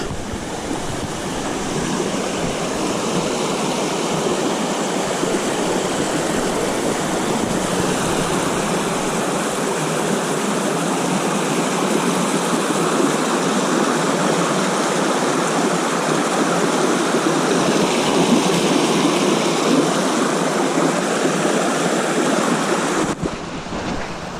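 A mountain stream on West Prong Trail rushes steadily and loudly for the whole stretch, a dense, unbroken wash of flowing water with no voices.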